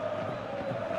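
Crowd in a football stadium at a Real Madrid versus Manchester City Champions League quarter-final, roaring and cheering as a steady, dense wash of voices that holds at a loud level throughout the brief moment.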